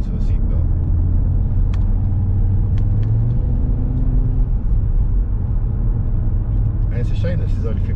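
Steady, loud road rumble from inside a car moving at about 55 mph, a constant low drone of engine and tyres with a few faint clicks.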